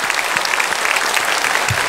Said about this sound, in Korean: 박수로 우리 환영 격려 환영합시다.